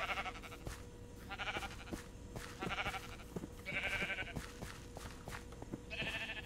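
Minecraft sheep bleat repeatedly in short, nasal calls spaced a second or so apart, over a steady game background, with no talking.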